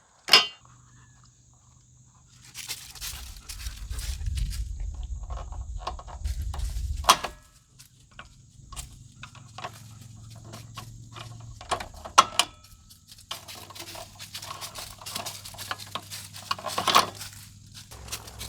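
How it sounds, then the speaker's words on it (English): An insulated screwdriver backing screws out of an electrical box during well repair work, with intermittent metallic clicks, taps and scraping, a low hum underneath for stretches. "So I'm gonna back these out. I've got an insulated screwdriver here"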